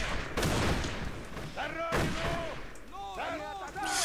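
Heavy gunfire and booming shots in the video game Darkest of Days, with rapid bursts and distant explosions mixed with shouted voices and chaotic battlefield noise.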